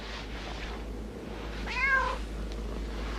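A cat gives one clear meow partway through, fairly close, over a steady low background hum with no talking.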